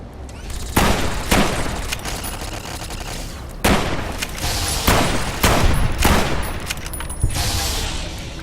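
Security turrets firing in Fallout: New Vegas Lonesome Road, a steady loud barrage of rapid shots with heavier bursts punctuating it throughout, no voices.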